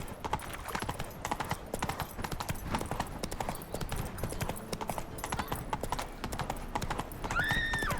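Horse hooves clip-clop at a steady gallop in The Witcher 3, continuous and fairly close, with a brief whinny near the end and game ambience underneath.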